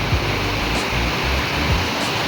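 Heavy monsoon rain over a flooded village in India, with the water pooled in front of a house, makes a loud, steady wash of dense rainfall that runs unbroken through the whole stretch, close and enveloping.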